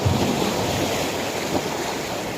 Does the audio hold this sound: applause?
no